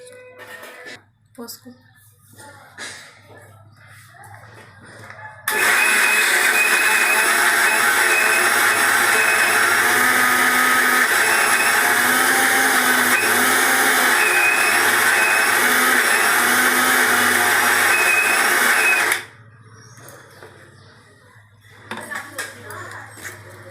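An electric mixer whirs steadily at high speed as it beats an egg into chocolate cake batter, loud and continuous for about fourteen seconds, with brief talk and clinking before and after.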